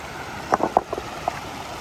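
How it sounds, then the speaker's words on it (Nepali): A small mountain stream from the hills is crossed on the Manaslu Circuit trek: a soft, steady rush of water with a few brief splashes or steps close by. "हामी सानो यो खोलालाई तार्दैछौँ"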